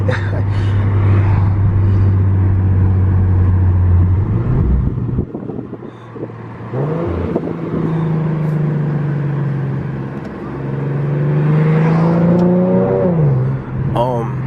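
An Infiniti G37 exhaust drones and rises through revs, with gear changes and throttle lifts dropping the note, heard from inside the car on the move alongside wind noise.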